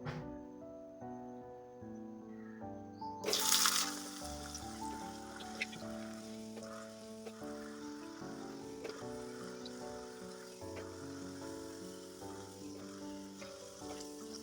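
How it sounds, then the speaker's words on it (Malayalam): Grated potato nest deep-frying in hot oil inside a tea strainer, held in a small kadai: a steady close sizzle and bubbling that bursts loudly as the nest goes in, then settles into a continuous crackle under soft background music. "അങ്ങനെ പിടിച്ച് ഫ്രൈ ചെയ്യുന്ന സമയത്ത് അത് നല്ല ക്രിസ്പി ആയിട്ടൊരു നെസ്റ്റിൻ്റെ ഷേപ്പിൽ വരും"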